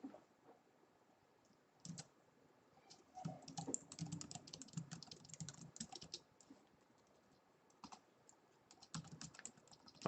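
Quiet, close computer keyboard typing in irregular bursts of light key clicks, with a few louder taps and short pauses between.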